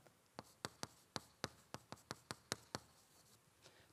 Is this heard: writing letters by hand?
yes